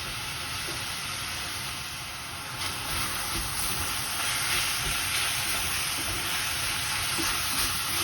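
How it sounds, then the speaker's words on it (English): Minced meat with onion and garlic frying in a pan while being stirred, a continuous close sizzle with scraping stir noises throughout and no talk. "I continue stirring so the mince doesn't get stuck in the pan"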